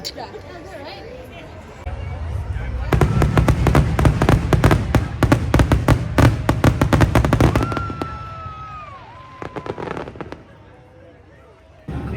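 Rapid bursts of fireworks crackle and pop in a dense barrage, with a crowd chattering underneath and a whistling rocket near the end.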